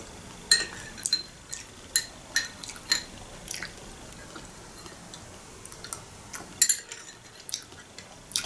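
Light metallic clinks and taps, like a spoon against dishes, come in irregular bursts, with quieter gaps between them.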